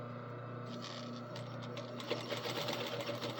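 A sewing machine backstitches the ends of a fabric pleat, giving a quiet, steady mechanical whir with rapid needle patter that grows slightly busier near the end.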